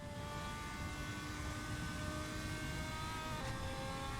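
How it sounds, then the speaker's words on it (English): Race car engines drone steadily at reduced pace under a safety car in a GT1 video game race at Monza, several cars blending into a continuous mid-distance hum with a slight pitch shift near the end. "I'm hearing reduced engine notes."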